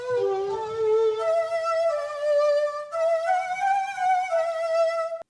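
Shakuhachi sample played from a keyboard rig, the same breathy flute used on a well-known song but cut from the start, heard as a string of sustained, sliding tones with a fluttering attack, clear and alone.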